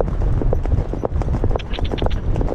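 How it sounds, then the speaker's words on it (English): Horse hooves trot and then canter on Perranporth beach sand in Cornwall, a quick, steady clip-clop rhythm close by under wind and rustle, with a rider's voice faintly in the background. "we'll have a trot. Steady. And a nice long canter."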